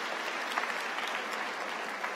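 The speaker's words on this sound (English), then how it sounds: "Give them a warm round of applause" Steady applause from a graduation commencement audience fills the clip, dense and even throughout with no voices on top.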